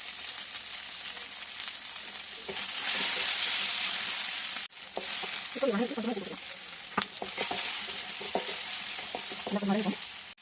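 Tomato, green chilli, onion and curry leaves sauté noisily in a hot pan for banana-flower gravy, a steady close sizzle with intermittent scraping stir strokes, alone without talk.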